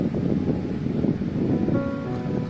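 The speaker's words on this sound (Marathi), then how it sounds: "धबधब्याचा आवाज पण खूप येतोय." The Siddheshwar waterfall roars as a steady, broad rushing wash of water heard from a distance outdoors, with no voices over it.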